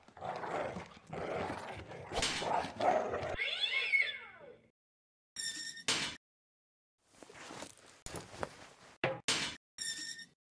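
A cat in the adventure game Deponia gives several distinct meows and drawn-out caterwauling cries, loud and close, separated by brief silences, with no talk.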